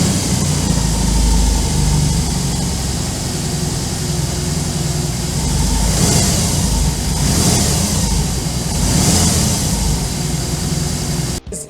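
A BMW R18 cruiser's 1800 cc boxer engine runs steadily and loudly close by, with a few swells of revving before it cuts off abruptly at the end.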